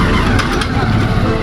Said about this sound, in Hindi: देख गाड़ी लेके आ रहा है